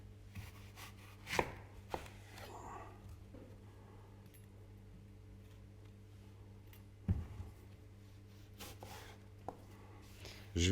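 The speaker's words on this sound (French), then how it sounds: "Et puis je vais détailler mes pommes." A knife slices apples on a cutting board in a home-style kitchen, giving a few sparse, close thuds spread over about ten seconds against a quiet, humming background.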